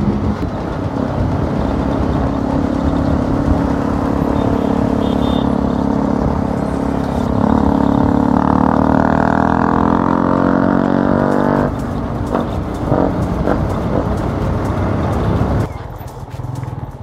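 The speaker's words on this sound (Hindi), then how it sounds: "तगड़ा साउंड आ रहा है बाइक का यार" A Bajaj RS 200 motorcycle with a loud aftermarket R1M-style exhaust idles and revs up steadily, a deep rumbling drone rising in pitch before dropping back, heard up close.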